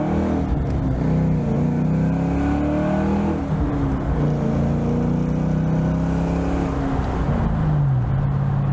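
Ford Mustang GT convertible engine pulling hard under acceleration, its note climbing through the revs, easing off and climbing again, heard from inside the car without talking.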